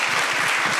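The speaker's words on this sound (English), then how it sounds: "Give her a round of applause for just this." A town hall audience breaks into a dense round of applause, steady and fairly loud throughout, with a few low voices murmuring beneath the clapping.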